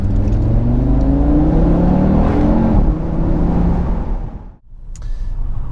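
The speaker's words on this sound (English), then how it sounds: "make sure you buy one with a very noisy sports exhaust." A 2019 Audi RS3 or TT RS with a loud sports exhaust drones and revs while driving, the tone rising through the gears before dipping briefly, then picking up again.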